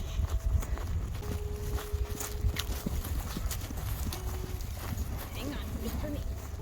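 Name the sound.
rescue horses walking, hooves clip-clopping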